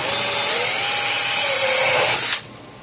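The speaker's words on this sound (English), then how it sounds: "now what I'm doing is I'm chiseling out some of that plastic out of here" A power tool chisels plastic out of an electric fence charger with a loud, steady high whine and grinding rasp that cuts off abruptly near the end.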